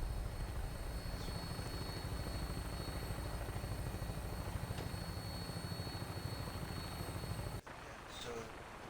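A Vertibird aircraft in Fallout 4 drones steadily with a loud, continuous rotor-and-engine roar. The noise cuts off abruptly near the end, leaving a quieter, different background.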